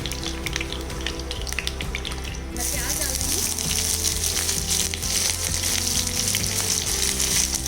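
Sliced onions, three of them, frying in oil for an egg korma, a steady dense sizzle that grows louder and brighter partway through, with faint rhythmic background tones underneath.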